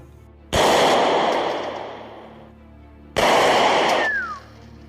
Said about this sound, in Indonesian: Si bos kemudian menguji kemampuan Ivan dalam menembak jarak jauh.